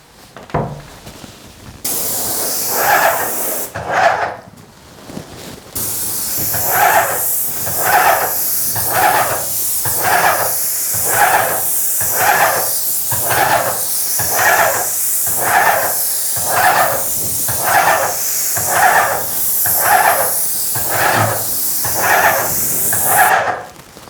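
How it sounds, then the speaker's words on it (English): A door is spray painted in a nursery project, the sprayer hissing loudly in a long series of regular bursts, each a second or so, separated by brief pauses, close and with no talking. "I'm gonna go ahead and spray this door"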